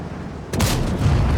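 A tank cannon fires in World of Tanks during a Vz. 60S Dravec match: a sudden loud boom cuts in midway through low battle rumble and rings on afterward.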